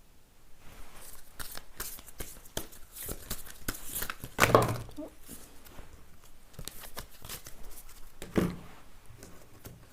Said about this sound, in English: let's shuffle some more oracle cards